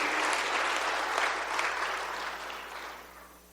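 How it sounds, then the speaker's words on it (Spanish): Church congregation applauding together, a dense, loud burst of clapping that holds steady before tapering off toward the end. "Dale un aplauso y dale las gracias por lo que Él ha hecho en ti."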